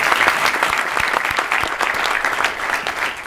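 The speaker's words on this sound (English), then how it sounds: "let's give her a round of applause as well" A crowd at a science center groundbreaking ceremony claps in a thick, continuous round of applause, loud and close, holding steady without any talk over it.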